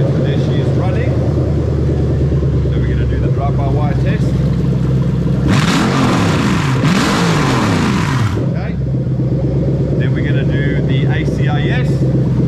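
A Toyota UZ-FE VVT-i V8 swapped into an IS200 idles with a loud steady rumble and revs up in a brief surge in the middle before settling back, while someone talks over it.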